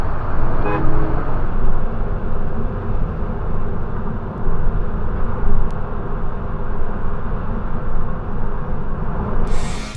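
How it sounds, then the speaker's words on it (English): A short car horn honk near the start, aimed at a driver stopped at a green light ahead of a Prius, heard over steady, loud road and engine noise inside a vehicle. "The driver in front of this Prius is stopping for the green light, so he gets a honk."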